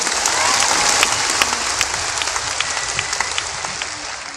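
An audience at a company anniversary event claps steadily, a dense wash of applause from a large crowd with scattered sharper claps, slowly easing off over a few seconds.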